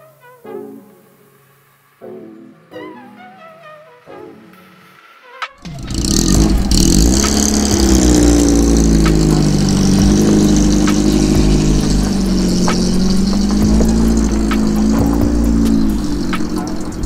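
An Alfa Romeo 33 1.7 QV boxer engine starts up after a few seconds of faint clicks and knocks. It then runs loud and close, with a steady throbbing drone that rises and falls slightly.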